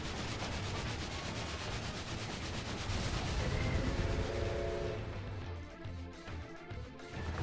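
A train rumbles closer in a Final Fantasy XIV Sigmascape battle, a steady heavy rolling roar with grinding rub that swells and then thins out near the end, with no voices over it.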